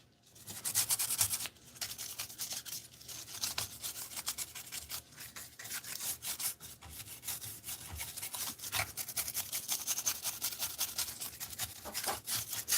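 Scrubbing and brushing at old flux and corrosion on the back of a CRT arcade monitor circuit board, a steady close-up rasping rub with short pauses, continuing alone for the whole stretch.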